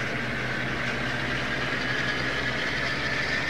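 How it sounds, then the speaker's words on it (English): A farm vehicle's engine idles steadily in Farming Simulator 22, a low continuous rumble with faint knocking, loud and even throughout. "Actually, I love that engine sound."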